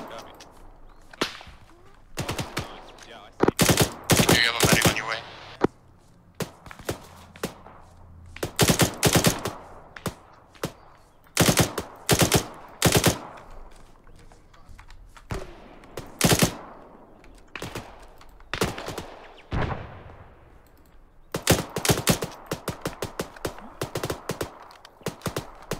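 Suppressive gunfire in the military video game ARMA 3: dense bursts of rifle and machine-gun fire, sharp cracks in rapid clusters separated by brief pauses, loud and close with some shots trailing off, no clear speech.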